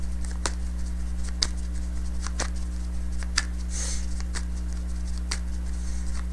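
Tarot cards are shuffled by hand in a quiet room, giving soft, scattered riffling clicks over a low steady hum.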